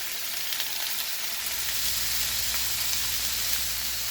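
Mixed vegetables stir-frying in a hot pan with sesame oil and salt, a steady, close, bright sizzle with soft stirring scrapes throughout.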